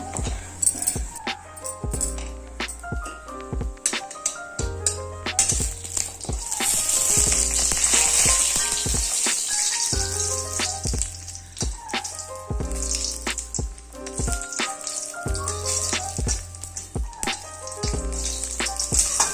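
Badi, lentil dumplings, frying in hot oil for a neem-leaf dish, producing a steady, dense sizzle and crackle throughout with intermittent utensil clinks and background music-like tones.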